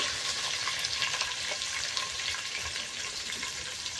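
Onion fries in hot oil with bay leaf and cumin for a chicken biryani gravy, making a steady crackling sizzle with soft stirring scrapes. It is moderately loud and continuous, and no one speaks.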